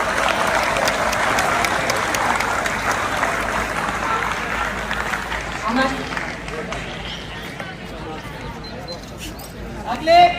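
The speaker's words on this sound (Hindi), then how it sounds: "तालियां बजाकर सर का स्वागत करेंगे" An audience at a Bharat Vikas Parishad event in Rohini claps in a steady wash of applause welcoming a teacher that gradually fades, with voices murmuring underneath.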